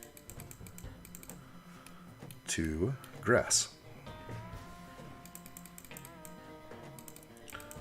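Computer keyboard typing and mouse clicking during a live backyard swimming pool design session, soft steady clicks running beneath a man's speech and music.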